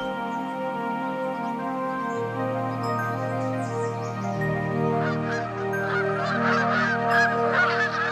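Flock of migrating geese honking on their way north in spring, a dense chorus of overlapping calls that swells louder toward the end, with no talk.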